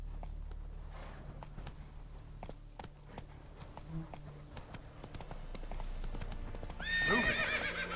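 Roach, a horse in The Witcher 3 video game, clip-clops along with steady hoof beats over low ambient rumble, then lets out a loud whinnying neigh near the end.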